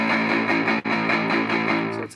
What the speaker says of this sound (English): Then a rhythm distortion guitar comes in.